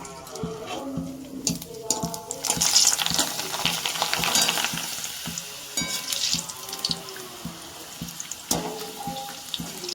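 Cups are washed at a home sink under a running tap, water splashing and rattling steadily with light clinks of crockery close by and no talking.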